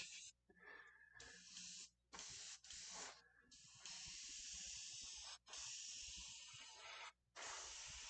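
An airbrush sprays model paint in close, bright hissing bursts, broken by several short pauses as the trigger releases and presses again.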